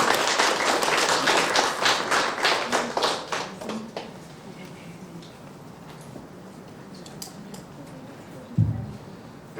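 A crowd of alumni at a chapter induction ceremony breaks into applause for a speaker, dense clapping for about four seconds that then thins into scattered claps and a low murmur, ending with one louder thump.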